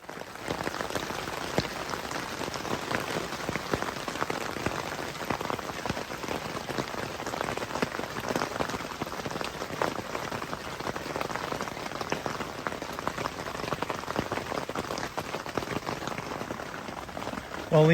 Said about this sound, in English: But it is pouring outside heavy.